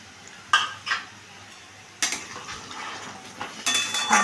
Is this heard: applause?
no